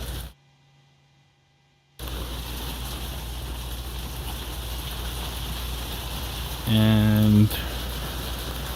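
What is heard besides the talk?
heavy rain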